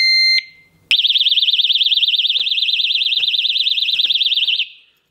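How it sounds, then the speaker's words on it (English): A Kovix KAL10 stainless steel disc lock alarm: a loud, fast warbling siren starts after a short beep and wails steadily for several seconds before cutting off, close by. "and then the alarm will go off"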